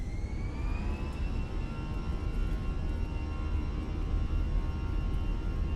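Airbus A320 engines spooling up to full takeoff thrust in the Fenix A320 flight simulator, a steady loud jet roar with rising whine tones that holds throughout without talk.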